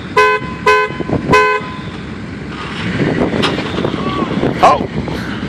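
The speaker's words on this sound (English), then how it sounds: "Honk my horn three times." A car horn honks three times in quick succession, each blast short and loud, outdoors in snowy, windy conditions, followed by wind noise and brief faint voices.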